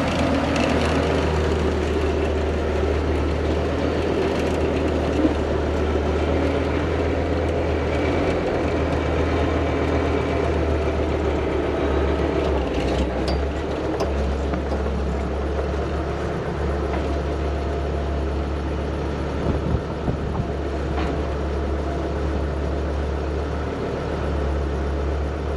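A farm tractor engine runs steadily while it is positioned with a feed mixer for feeding cows, a constant low rumbling drone, close and continuous throughout with slight mechanical rattles.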